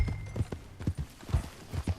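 Horse hooves clip-clop at a steady walking rhythm in Red Dead Redemption 2, loud and close, with several evenly spaced heavy footfalls and no talk.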